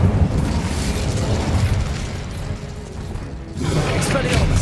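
The Incendio fire spell in Hogwarts Legacy bursts out in a loud, rumbling blast. Crackling game effects and voices run through it, it dips briefly, and then a second fiery surge follows.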